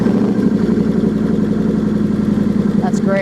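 A Kawasaki Vulcan 900 motorcycle engine idles steadily with a low, even throbbing rumble, loud and close, running continuously throughout.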